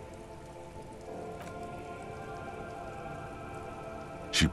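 Rain falling in the video game Disco Elysium, a soft continuous patter of drops over a low background hum, with a faint splash near the start and a brief louder burst at the end.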